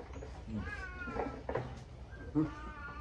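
A cat meows several times, fairly quiet, with short drawn-out cries spaced through the moment and faint background noise.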